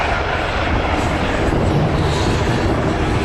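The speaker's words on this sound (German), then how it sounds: "As you can see, the first of the LUH helicopters has landed" Airbus H145M LUH military helicopter landing during a Bundeswehr special forces demonstration, a loud, steady engine and rotor roar filling the whole stretch without letup.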